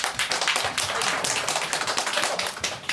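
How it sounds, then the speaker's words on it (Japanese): Applause from a live audience at a lightning-talk event as the first presenter is welcomed, a dense, steady patter of many hands clapping for three seconds with no voices. "では拍手をお迎えください"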